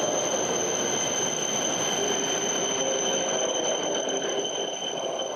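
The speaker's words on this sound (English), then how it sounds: "so let's check the Shinkansen. I think it should be coming to this lane." A Shinkansen bullet train at a station platform, a steady loud rumble with faint high wheel squeal running through the whole stretch, no voices over it.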